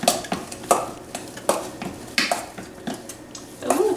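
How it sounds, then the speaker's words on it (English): A spoon stirs butter into boiled potatoes in a pot, making repeated scraping strokes and clinks of metal on metal in an uneven rhythm, close and fairly loud with a faint sizzle underneath. "We're just gonna stir, get that butter incorporated."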